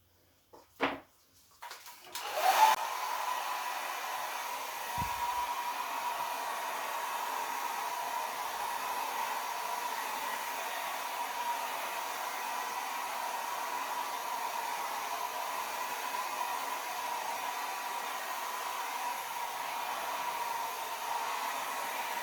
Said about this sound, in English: so let's get the hairdryer. Now I'm going to blow this around just a little.